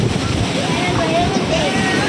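Ocean waves wash against a wooden jetty built around 1904–1905 at Swakopmund, Namibia, a steady roaring wash mixed with wind buffeting on the microphone, with no talking.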